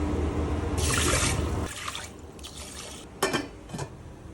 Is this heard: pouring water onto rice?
yes